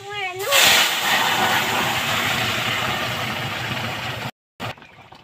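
Hot browned tempering poured into jute leaf dal hits the pan with a sudden loud sizzle that settles into a steady, close hiss, then cuts off briefly near the end.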